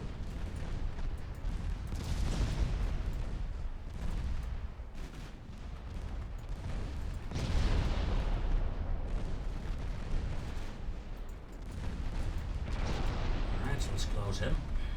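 Naval gun salvos boom in the Ultimate Admiral Dreadnoughts battle game, dense repeated cannon fire and blasts rolling continuously at loud, steady level through the whole stretch.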